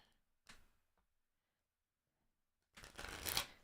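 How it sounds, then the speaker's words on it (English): Playing cards are shuffled on top of a tablet in two short bursts, a brief riffle early on and a louder, longer shuffle near the end, close and with quiet gaps between. "I don't know if y'all can hear me shuffling the cards."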